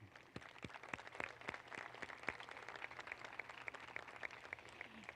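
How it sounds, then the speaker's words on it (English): Scattered applause from the audience at the Walker Valley High School 2023 graduation ceremony, with sparse individual claps that are fairly faint and distant throughout. "That deserves a round of applause."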